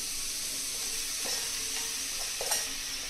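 Squeezed radish leaves and chopped radish sizzle in a hot cooker while being made into bhurji, a steady frying hiss broken by a few soft clinks of stirring, close and with no talking.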